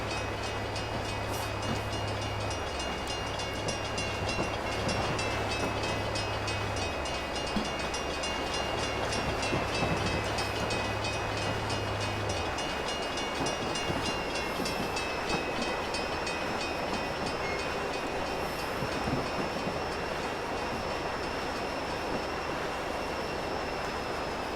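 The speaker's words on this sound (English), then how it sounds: "you're driving a train through a very built-up area" A train in the Train Simulator 2015 game runs through a built-up stretch of the Chicago to Aurora route, a steady loud rumble of wheels on rails with a low engine drone and a faint high whine throughout.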